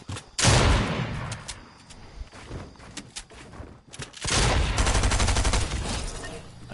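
Fortnite gunfire erupts in a loud close burst, trails off into sporadic shots and thuds, then a sustained rapid volley of automatic fire returns for the final seconds.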